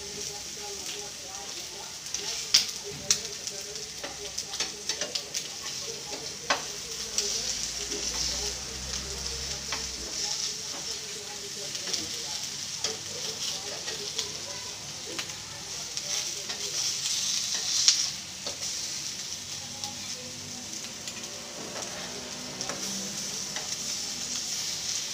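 Fish frying in a little oil makes a continuous hissing sizzle with scattered crackles and pops, and a voice talks over parts of it.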